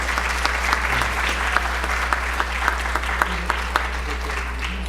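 Steady, dense applause fills a law symposium hall as a labour-law commission speaker from the Lima bar association is welcomed, continuous throughout with a faint electrical hum underneath.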